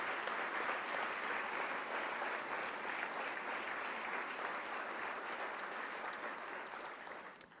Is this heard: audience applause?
yes